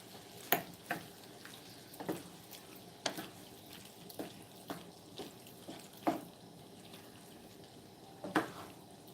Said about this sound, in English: I'm going to go ahead and put those diced tomatoes in there. We'll give them a stir.